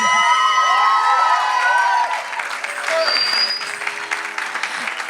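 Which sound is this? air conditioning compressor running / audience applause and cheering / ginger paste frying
audience applause and cheering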